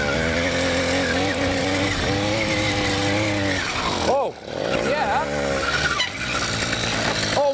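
An 80cc petrol engine on a motorized mountain bike revs hard and close with rising and falling pitch, dropping briefly as the bike lifts over a jump before the throttle picks up again, with voices partly over it.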